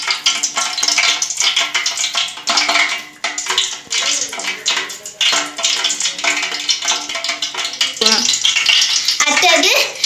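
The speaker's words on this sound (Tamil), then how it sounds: "இப்போ 5 டீஸ்பூன் நெய் ஊற்றிக்கலாம்." Ghee goes into a biryani pot already holding hot groundnut oil, with metal scraping and stirring clatter over a constant hissing sizzle, and a voice briefly audible in the background.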